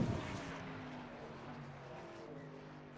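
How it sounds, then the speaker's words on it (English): Race cars in qualifying at Sebring pass in the distance, their engine drone rising and fading at moderate volume and droning steadily, with no talking over it. "You hear some of the cars going by."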